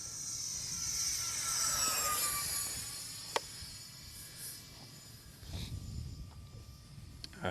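A twin 40mm electric ducted fan E-Flite F-14 Tomcat RC jet flies past at full speed, a faint rising and falling whine that sweeps by with a Doppler shift and then fades into the distance.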